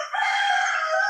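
A rooster crows once at dawn near a forest, a single drawn-out, fairly close call lasting about a second.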